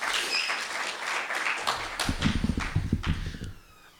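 An audience at a spoken word performance breaks into brief, scattered applause. Several close claps rise into a short burst and then fade quickly into quiet.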